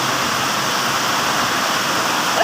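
Heavy monsoon downpour drums onto a country boat, a dense, even hiss of rain that stays loud and constant without pause.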